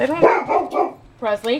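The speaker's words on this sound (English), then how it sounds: "Sorry for the barking again." A dog barks in a few short, sharp bursts, overlapping with a person speaking nearby.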